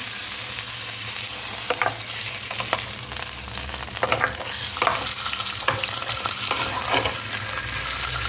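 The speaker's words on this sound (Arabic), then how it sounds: "شويه زيت، الدجاج يتحمس كما العاده." Chicken frying in oil in a home kitchen pan, a steady loud sizzle with scattered crackles and a few scraping stirs, no voices.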